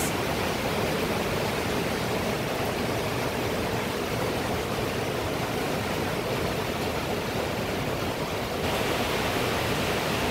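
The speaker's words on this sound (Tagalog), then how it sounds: "Pero ang lakas ng ulan talaga sobra" Heavy rain from Super Typhoon Uwan pours down in a dense, unbroken roar, loud and steady like a rushing waterfall, with no voices heard.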